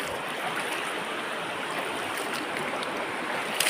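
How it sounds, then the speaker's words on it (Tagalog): Fast-flowing floodwater from a swollen river, a steady broadband rushing roar that stays loud and even throughout with no voices over it. "Maapaw yung tubig dito sa amin"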